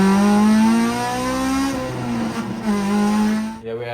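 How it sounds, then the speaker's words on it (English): A K20-powered Honda Civic track car with a straight-pipe exhaust drones loudly and steadily close by, its harsh, buzzy note holding near-constant revs before dipping briefly at the end. "This car is actually straight pipe guys, so it's extremely loud."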